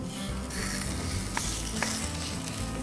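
Skirt steak searing on a barbecue grill, a steady dense sizzle and crackle that holds even throughout, with a couple of faint clicks, close up and with no talk.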